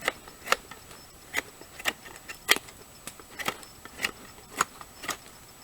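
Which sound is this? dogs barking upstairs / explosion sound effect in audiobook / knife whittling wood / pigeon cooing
knife whittling wood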